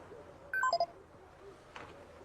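A phone sounds a text message alert as a brief, clear run of electronic beeping tones at different pitches, followed by a faint soft rustle.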